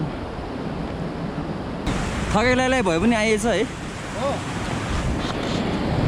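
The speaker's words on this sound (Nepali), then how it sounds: "यता साइडमा खोला छ" Steady broadband rushing of a river on the Shey Phoksundo trek in Dolpo, Nepal, runs throughout, with a person speaking briefly over it partway through.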